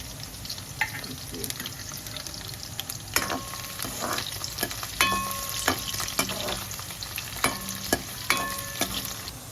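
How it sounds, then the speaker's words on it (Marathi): Garlic fries in hot oil in a pan while a spoon stirs with repeated sharp metallic taps and scrapes. A continuous close sizzle runs underneath, and the clinks come in irregular bursts. "तेल तापला आता लसूण लाल होईपर्यंत"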